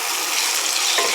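Turkey chops stirred in olive oil in a hot pan, a steady close sizzle and fry with a faint scrape of the utensil near the end.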